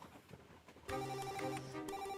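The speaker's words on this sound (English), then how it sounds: "Answer the phone." A telephone starts ringing partway through with a bright, repeating electronic ring tone, clear and fairly close after a quiet stretch.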